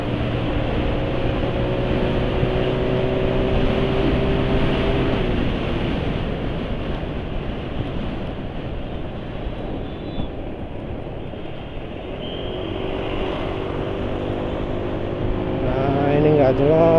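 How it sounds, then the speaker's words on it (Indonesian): Car engine running rough after a WEPP 2111 additive treatment, a loud continuous rumble with steady harmonic hum that dips briefly and rises again, while a person talks over it. "Ini suara mesin sekarang masih terasa kasar ya."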